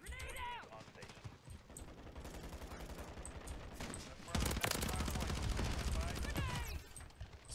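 SMG fire in a video game, rapid clattering bursts that are sparse at first and then form a loud, sustained volley through the middle before tapering off.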